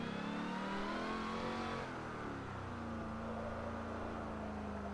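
A car drifting on a practice run revs hard, its engine holding a loud, sustained roar whose pitch rises and then settles and wavers. No one speaks.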